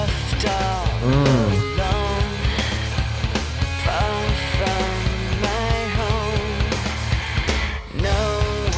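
Guitar riff from an EP recording plays continuously at full loudness, a dense rock mix of distorted guitar with bending melodic lines and steady rhythm, no talking over it.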